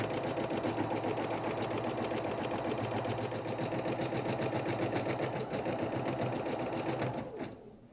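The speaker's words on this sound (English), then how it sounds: "hit the start button on the front of the machine to start our placement stitch" An embroidery machine stitches a placement outline for an embroidered patch, humming and chattering in a fast, steady needle rhythm close by for several seconds before winding down and stopping near the end.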